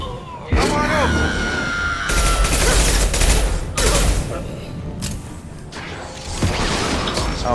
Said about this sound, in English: Please keep shooting them.